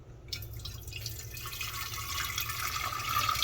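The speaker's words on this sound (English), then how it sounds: "I'm gonna go ahead and pour my water in." Water pours steadily into a glass jar to make sun tea, a continuous splashing trickle that builds slightly as the jar fills, close and alone with no talk.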